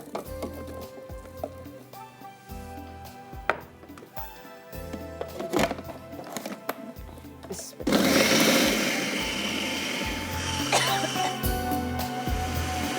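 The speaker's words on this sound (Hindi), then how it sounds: "चॉपर में जाएगा, सारी चीज़ें पिस जाएंगी" An electric food chopper grinds a large onion and spices for chicken seekh kabab, first in short whirring bursts and then in a loud, continuous blending roar, with clinks and someone talking over the motor.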